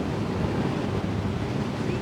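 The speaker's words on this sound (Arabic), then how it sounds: "في امواج بتخوف ها؟" Sea waves rolling and washing on a windy shore during a fishing outing, a dense, continuous low roar with wind buffeting the microphone and no clear talk.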